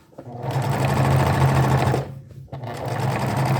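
A sewing machine topstitches a skirt seam in fast, loud, close bursts of needle clatter, stopping briefly for about half a second before running again.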